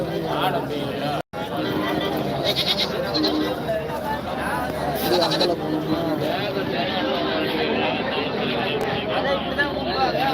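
Goats bleat at the Manapparai goat market in Tamil Nadu, with repeated wavering cries mixed into a steady hubbub of people talking nearby.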